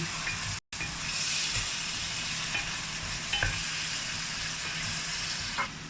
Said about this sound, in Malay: Kita kacau-kacau sekejap saja, jangan bagi rempah tu hangus